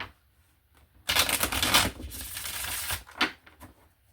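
Tarot cards are riffled and shuffled close by, a loud, dense flurry of papery flapping lasting about two seconds, followed by a few lighter taps and slides as the deck settles.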